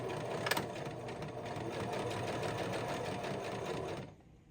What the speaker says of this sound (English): I'm going to top stitch, pin it all top stitch